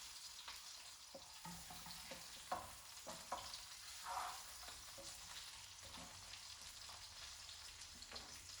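Faint, steady sizzling of a browned lamb shank in nutty browned butter, with occasional soft crackles and pops over a continuous hiss.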